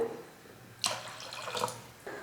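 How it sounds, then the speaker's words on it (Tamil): Water splashes and pours into a cooking pot of salna in two short bursts, a longer pour followed by a brief second one, close by with no talking. "அதனால் கொஞ்சம் இப்போ தண்ணியை வச்சுக்கிறேன்."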